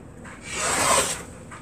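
Quilt fabric is sliced in one smooth, rising-and-fading swipe of a cutter blade lasting about a second, close and fairly loud with no voices.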